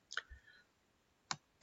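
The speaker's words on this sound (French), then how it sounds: "bouton droit de la souris" Sharp right-button clicks of a computer mouse: one at the start, then two more near the end, each brief and distinct against a quiet background, no talking.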